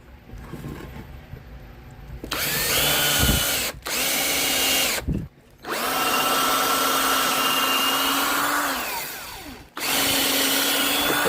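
A cordless drill on a weak, dying battery during a 220-volt outlet rebuild, whirring in several close bursts separated by short pauses, its pitch sagging and slowing as each run goes on.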